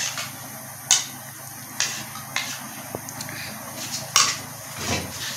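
Yogurt being mixed into green chutney of coriander and green chillies in a bowl, with a spoon clinking against the bowl several times in irregular, moderately loud strikes and soft scraping in between.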